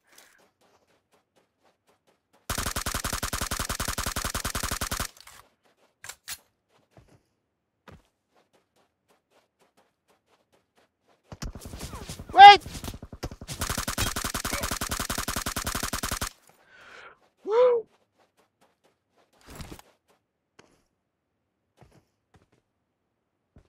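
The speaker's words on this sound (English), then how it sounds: "He's shooting somebody here." Bursts of gunshots from the mobile battle royale PUBG Mobile: two sustained rapid volleys separated by silence, plus a few isolated sharp cracks and pings, fairly loud and close with no talk.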